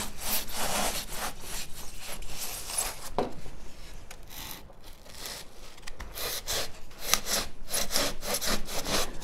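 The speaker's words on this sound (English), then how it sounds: "When in doubt, use a hacksaw." Hacksaw cuts partway into a metal garden stake in steady back-and-forth strokes, a rhythmic rasping close by with a brief pause midway before the sawing resumes.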